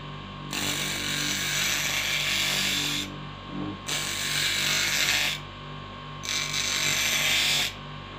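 A small Vikhr TS-15A-200 electric bench grinder hums steadily with uneven stones, and three loud bursts of harsh grinding noise rise over the motor whine.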